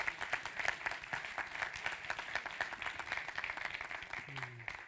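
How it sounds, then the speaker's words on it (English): Audience at a banking association's annual meeting clapping in applause, a quiet, steady patter of many hands heard from a distance, with a faint voice near the end. "An applause to the GABV,"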